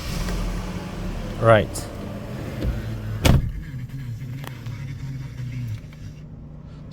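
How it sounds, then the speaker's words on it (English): Ignition switched on in a Mercedes-Benz E-Class W210, brief electronic chirps and a short mechanical whir over a low interior hum, with someone speaking briefly. "Let me just quickly turn on the ignition."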